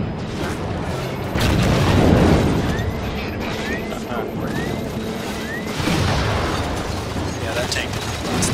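Tank fire and heavy mechanical rumbling during a capture-the-flag match in Halo, with booming blasts and grinding treads under steady background noise and talk.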